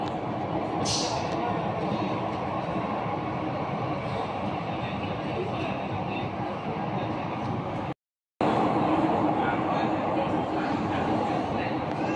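Mumbai underground metro train at Sahara Road station, with a loud, continuous rumble and roar inside the carriage, a brief drop to silence, then the rumble again, with voices mixed in.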